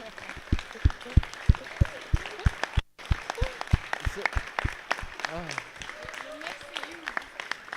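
A small audience at a blockchain meetup gives scattered, sharp individual claps in a loose rhythm, fairly quiet and thin, with a speaker's voice running underneath.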